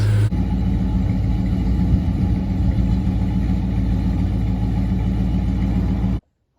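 A 1968 Dodge C-series truck engine idles close by with a steady, deep, throbbing rumble that cuts off abruptly after about six seconds.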